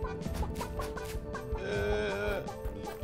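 Cartoonish chicken clucking from a Chicken Dance emote in the game Realm Royale, a quick run of clucks and squawks set over light background music.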